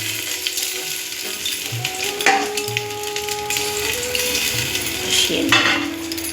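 Food sautéing and being stirred in a pan for a home-cooked Bengali dish, with a steady sizzle throughout and a few scraping and clinking touches from the utensil. There is no speech.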